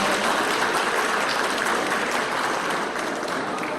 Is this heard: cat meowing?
no